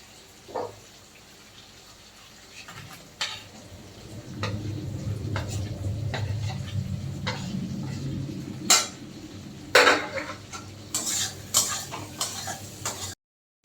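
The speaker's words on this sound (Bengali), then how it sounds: "এবার আগের থেকে ভেজে রাখা আলু আর চিংড়ি মাছগুলো দিয়ে দেবো" Pre-fried potatoes and prawns drop into a pan, followed by steady sizzling and the scrape and clink of a spatula as they are stirred, with sharp clatters standing out over the frying.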